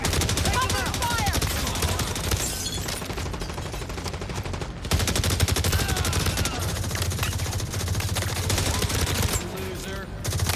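Heavy continuous gunfire rattles through a firefight in The Division Resurgence, loud overlapping automatic bursts with a brief lull midway, game voices faintly mixed underneath.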